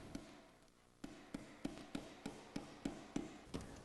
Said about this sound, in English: so we used a hammer.